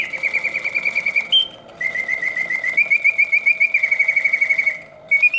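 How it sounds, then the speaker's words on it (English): Antique Bontems singing birdcage automaton with a brightly feathered blue bird, its mechanical song a loud, continuous warbling whistle with rapid trills and oscillating pitch, running steadily for several seconds with brief pauses. "The bird sings with full voice, hitting all the proper oscillating notes, yet the mechanism runs nice and quiet."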